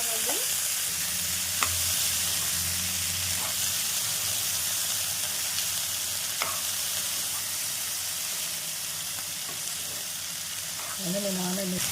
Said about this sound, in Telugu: ఈ వేగిపోయిన పోపులో మనం ఏదైతే బీన్స్ ఉడికిపెట్టుకున్నామో ఆ బీన్స్ ఇందులో వేసేసుకుని ఒకసారి